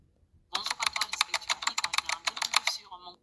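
Rapid keyboard typing clatters in a dense run of crisp keystrokes, starting abruptly after a near-silent moment and stopping shortly before the end, close and clear with nothing else over it, used as an editing sound effect.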